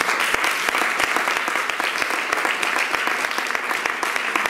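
A church congregation claps loudly and steadily in dense, continuous applause, sounding near and full throughout, with no speech over it.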